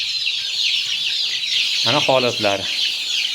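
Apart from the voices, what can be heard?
Andijan black chicks peeping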